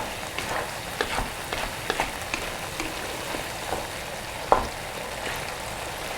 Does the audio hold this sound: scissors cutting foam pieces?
no